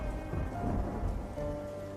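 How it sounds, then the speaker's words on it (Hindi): Steady rain pours down with a deep rolling rumble of thunder underneath, continuous and fairly loud, with no voices. "ये बारिश का सिलसिला यूं ही कुछ दिन तक जारी रहता है।"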